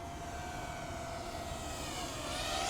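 A Rekon35 2S micro long-range FPV quadcopter running on an 18650 battery gives a steady, moderately loud motor whine with a clear tonal hum that stays even throughout and swells slightly louder near the end.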